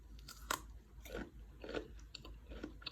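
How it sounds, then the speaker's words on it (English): Crunchy homemade snack sweetened with sugar and seasoned with salt and chili pepper, bitten and chewed up close, giving several sharp, brittle crunches spaced irregularly across a few seconds with no talking. "Listen to the crunch."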